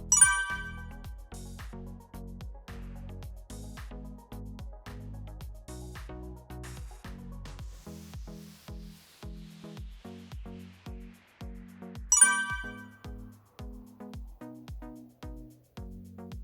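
A series of short electronic smartwatch notification chimes and tonal beeps sounds repeatedly, with a brighter alert jingle at the start and again partway through, clear against quiet.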